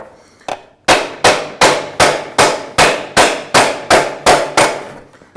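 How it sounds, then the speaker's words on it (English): Sheet metal being hammered by hand into a cafe racer fender, a rapid regular series of about a dozen sharp, ringing close blows, each ringing out briefly, with no talk. "I'm hammering on that there to kind of get it to peak"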